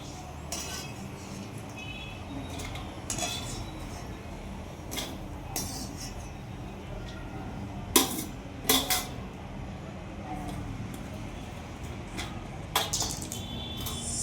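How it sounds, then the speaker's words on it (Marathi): Spices for Marathi kala masala are stirred a little at a time in oil in a pan, with quiet scattered clinks and scrapes of a utensil against metal over a low background hiss. "थोडं थोडं परतवायचे तेलामध्ये."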